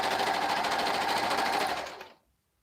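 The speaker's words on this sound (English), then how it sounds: "I'm going back and sewing this one that I just cut out" A sewing machine runs steadily, stitching a freshly cut piece for an Etsy order, with a continuous whirring hum close by that winds down and stops near the end.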